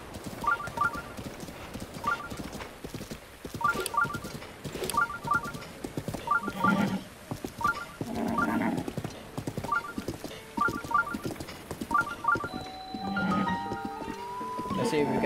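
Horse hooves clip-clop in steady rhythmic runs in the video game Zelda: Breath of the Wild, with a player talking over the galloping and occasional game chimes.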